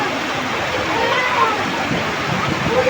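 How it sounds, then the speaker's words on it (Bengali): Heavy rain pours down in a dense, continuous wash of hissing water, with a person talking over it. "এখন দেখেন কী পরিমাণে বৃষ্টি হচ্ছে"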